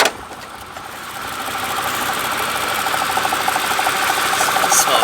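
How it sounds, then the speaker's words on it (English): A Mercedes CL65 AMG V12 idles steadily and smoothly at a gas station, a close, even engine hum with a faint rhythmic ticking that grows slightly louder over a few seconds. "It seems to be running kind of smooth just at idle, but it is a V12."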